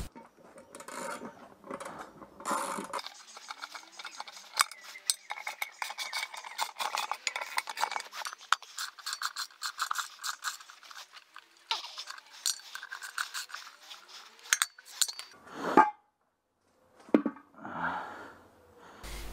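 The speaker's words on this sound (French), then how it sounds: "maintenant je récupère le tambour, donc je dévisse les boulons" A wrench turns the bolts of a drum puller on a Citroën 2CV rear wheel, making quiet, close ratcheting clicks and metallic scrapes in uneven runs, with a few louder knocks near the end.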